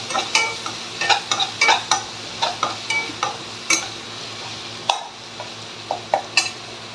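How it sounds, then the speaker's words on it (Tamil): Tomatoes sautéed in a pan for an anchovy and field bean kuzhambu, a spatula scraping and clinking against the metal in irregular strokes over a soft sizzle, close and fairly loud. "ஆட் பண்ணி அதையும் கொஞ்சம் நல்லா வதக்குங்க."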